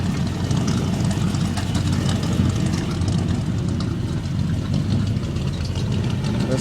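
A 1978 vehicle idles with a hole in its exhaust, giving a steady, loud, rumbling drone with a rough, throbbing low end that holds evenly the whole time, with no talking.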